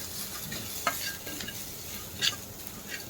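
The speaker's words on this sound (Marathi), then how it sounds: "अद्रक लसूण छान फ्राय झालं" Ginger and garlic frying in a pan, a steady close sizzle with occasional spoon clinks and scrapes as it is stirred, no voices.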